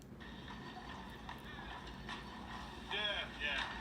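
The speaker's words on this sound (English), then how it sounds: "These horses." Horses in the open-world game Crimson Desert, their hooves clip-clopping at a steady pace beneath continuous game ambience, with a brighter flurry of sound near the end.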